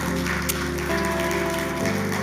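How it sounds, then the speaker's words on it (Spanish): A church congregation breaks into loud, sustained applause, a dense steady patter of many hands clapping together without any talk over it. "Dele fuerte el aplauso a Dios."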